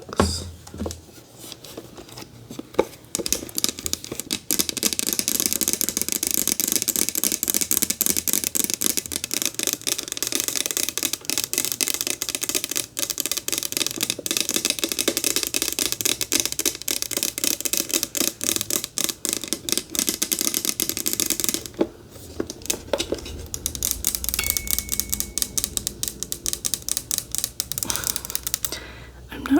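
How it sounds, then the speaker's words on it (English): Fingertips tap rapidly and steadily on a jewelry box, a dense, crisp clicking patter up close that runs continuously with a couple of brief pauses. "I'm gonna end off the video with a little bit more tapping on the jewelry box"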